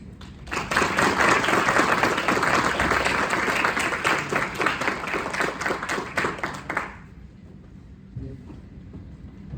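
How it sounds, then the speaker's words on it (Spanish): Audience applause greets a speaker at a lithium innovation colloquium, a loud, dense burst of clapping that holds steady for several seconds and then stops abruptly, leaving a quiet room. "por favor recibamos con un fuerte aplauso a Gonzalo Gutiérrez"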